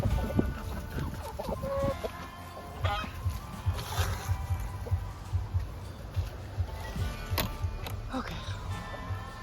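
A small farm rooster clucks and squawks in short bursts among other fowl, close and fairly loud, with honking goose-like calls scattered through a busy outdoor soundscape.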